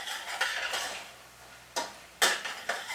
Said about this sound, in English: Now I'll just put in 1 salt spoon of salt, and I'll stir it around